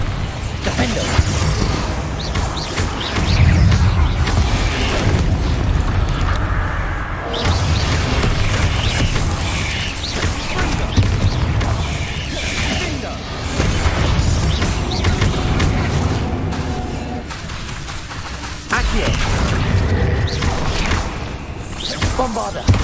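Repeated Bombarda spell explosions in Hogwarts Legacy, loud booming blasts and crashes that keep coming in a dense sequence of combat bursts and whooshes, with shouted spell names over them.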